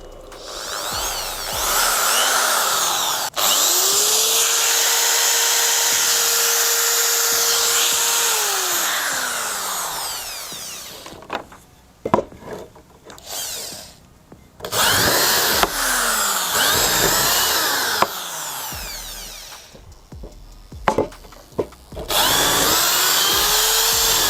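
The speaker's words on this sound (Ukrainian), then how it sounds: "В даний момент я збираюся спробувати цей інвертор на прикладі дрелі." An electric drill powered through a Tataliken 3500W inverter runs with a loud, steady whine. It spins down, then starts again in several short, uneven bursts with brief pauses.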